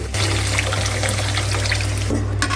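Tamarind water is poured into a traditional village-style fish curry, a steady close splashing pour that runs the whole time, loud and continuous with no talking.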